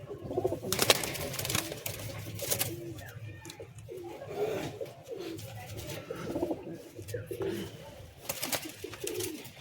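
Pigeons in a pigeon loft coo repeatedly in low, rolling, throaty calls, fairly close, with occasional wing flaps and rustling, and a person speaks faintly in the background.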